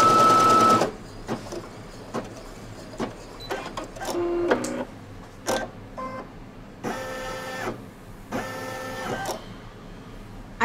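A Brother NQ3700D embroidery machine stitches a placement line on a nativity table runner, giving rapid mechanical whirring runs broken by short pauses and clicks, close and fairly loud, with no talking.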